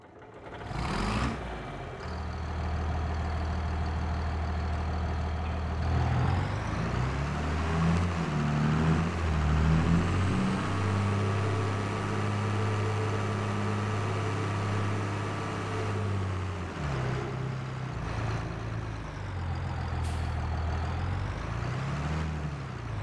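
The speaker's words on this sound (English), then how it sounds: "There's the new truck." A farm truck engine idles loud and steady, its low rumble shifting in pitch as the truck pulls away, revs and drives on, with no voices over it.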